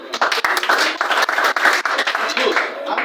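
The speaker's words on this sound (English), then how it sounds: "Clap for him." A classroom audience claps for a student during a youth sexuality education lesson, a dense patter of hands filling the room with steady, close applause and a voice or two mixed in.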